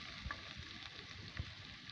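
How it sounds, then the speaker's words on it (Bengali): Chopped onion fries in hot mustard oil in a kadai, giving a soft, faint, continuous sizzle with a couple of light clicks from the pan. "এবার দিয়ে দেবো পেঁয়াজ কুচি,"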